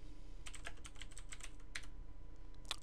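Light, quick keystrokes tap on a computer keyboard while text is typed into a Java editor, a quiet irregular run of clicks with a final cluster at the end.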